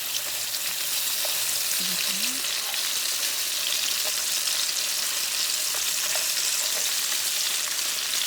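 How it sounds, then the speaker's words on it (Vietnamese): Loud, steady sizzling of shrimp frying in hot oil close by, a constant crackling hiss with faint pops throughout. "Dầu nóng thì mình cho tôm vào chiên áp chảo."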